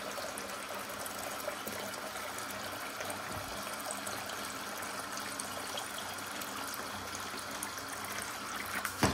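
Water pours steadily from a watering can in a henhouse, a continuous soft trickling stream that holds for several seconds and swells slightly at the end.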